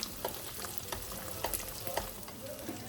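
Petulla dough fries in hot sunflower oil, a soft, steady sizzle with faint crackles and pops scattered throughout, heard close and without any talking.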